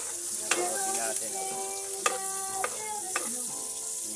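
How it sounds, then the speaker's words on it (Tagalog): Soup cooks over a wood fire while being stirred, with a few distinct knocks of a utensil against the pot over a soft constant hiss and faint tonal sounds in the background. "So yan, nagluluto siya ng sopas."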